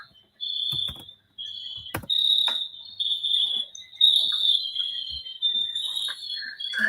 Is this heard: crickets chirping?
yes